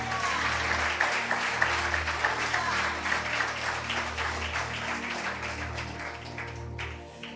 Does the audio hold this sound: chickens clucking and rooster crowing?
no